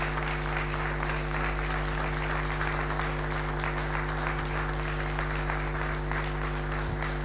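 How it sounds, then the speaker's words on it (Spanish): An audience applauds at a CUCICBA presentation for a Juntos por el Cambio candidate in Buenos Aires, with dense, sustained clapping filling the room evenly for several seconds over a faint electrical hum. "le damos la bienvenida oficial con un recontra fuerte aplauso a María Inés Parri, candidata a legisladora"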